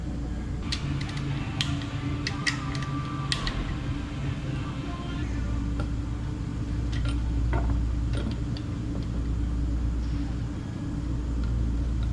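A torque wrench tightens pushrod rocker arms during a 1969 Chevelle engine build, giving scattered sharp metallic clicks and ticks over a steady low background hum.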